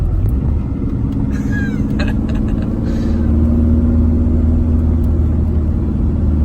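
Interior engine drone of a 1983 VW Rabbit GTI on tight, twisty mountain roads in California: a steady, loud, low rumble with a faint mid-pitched engine note, continuous for the whole stretch.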